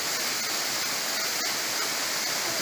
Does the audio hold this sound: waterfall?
yes